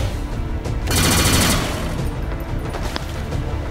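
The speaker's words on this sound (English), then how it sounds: "Rapid fire time." Burst of rapid gunfire in the XCOM 2 video game, a quick string of loud close shots packed into about half a second, followed by softer game ambience and a single later impact.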